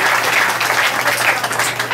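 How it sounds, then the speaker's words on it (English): Audience applause at a community candidates' meeting, a dense and loud burst of clapping heard close and steady throughout. "you really deserve a round of applause"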